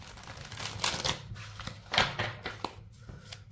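A pile of cards shuffled by hand gives irregular papery riffles and soft slaps in several quick bursts, close and alone.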